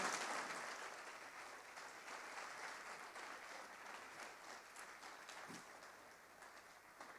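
A church congregation claps in welcome, a faint, distant wash of steady applause that slowly fades over several seconds, with no talking.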